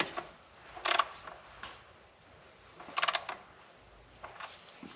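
Ratcheting clicks from snugging down the oil drain plug on a Range Rover P400 with the Ingenium 3.0 litre inline six, two short bursts of metallic clicking about two seconds apart, close and moderate, with a fainter click later.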